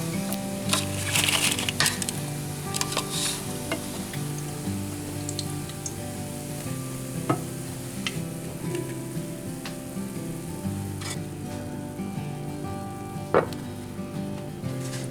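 Homemade croutons seasoned with garlic powder frying in a pan on a stovetop, with a steady close crackle and sizzle and occasional stirring clicks throughout, over a constant low hum.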